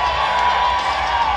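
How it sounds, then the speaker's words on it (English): Spectators at an MMA fight card cheer and roar after a unanimous decision is announced, a dense, sustained crowd noise filling the whole brief moment. "The crowd thrilled with the result."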